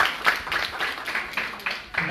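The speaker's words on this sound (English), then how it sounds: "a round of applause for Troy" Audience applause at a product-building event, a moderate round of clapping pulsing in uneven waves, fairly close, with a brief voice mixed in.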